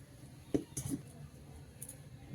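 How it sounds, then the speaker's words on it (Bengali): An iron wok (kadai) is set down on a wood-fired clay stove: a single quiet metallic clunk followed by a couple of softer knocks, in a calm outdoor kitchen. "এবার কড়াইটা বসিয়ে দেব"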